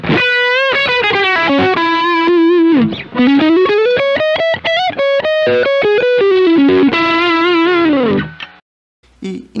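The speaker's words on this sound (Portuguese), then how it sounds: "E também somo os dois pedais para poder dar um booster a mais no solo." An electric guitar solo is pushed through two stacked boost and overdrive pedals, giving a heavy drive. Loud, sustained, distorted lead notes slide and bend continuously for about nine seconds, then cut to a brief silence before a final stab.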